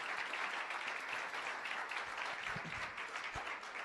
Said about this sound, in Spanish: Qué tal si le damos un aplauso a Arturo y a Gladys, al Señor por sus vidas?